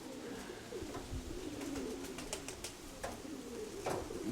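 Pigeons coo softly in low repeated bursts against a steady background hum, with a few brief sharper chirps or clicks scattered through.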